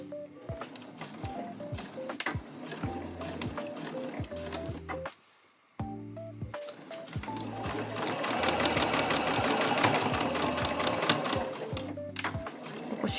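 A sewing machine stitches a small trunk-style key case made from fabric scraps, with a zipper closed along the seam. The needle clatters in close, steady rhythmic bursts, stops briefly midway, then resumes in a longer, louder run.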